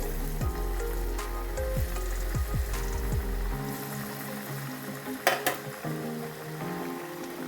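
Chickpea patties fry in hot oil with a close, steady sizzle. Spoon or utensil clinks punctuate the start, then the frying settles into a quieter, even crackle with a few brighter pops near the end.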